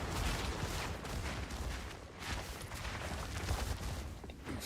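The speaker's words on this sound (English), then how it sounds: "Those explosions are like mad loud." Dense, continuous barrage of explosions in the action game Path of Exile 2, loud and rumbling with overlapping blasts and crackle, no clear gaps between impacts.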